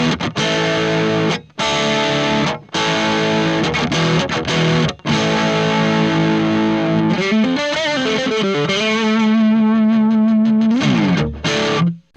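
Donner Hush-X travel guitar played through its neck single-coil pickup with heavy distortion, loud sustained chords and riffs with brief breaks, then bending sliding lines toward the end; no talking.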